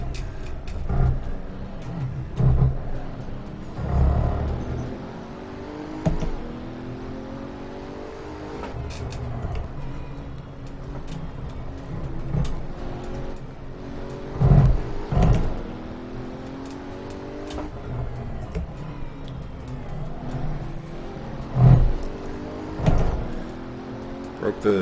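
A Pagani Huayra BC screams around Monza in Assetto Corsa, its engine note rising in repeated sweeping climbs with sharp shifts between them, loud and close, while a voice talks over it throughout.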